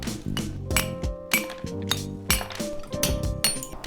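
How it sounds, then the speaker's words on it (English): A steel chisel is hammered against granite stone to chip it flat, sharp ringing metallic clinks in a steady series of about ten strikes, close and distinct with short decays. "I think I'm going to try and chip this out and see if I can flatten it out with a chisel now."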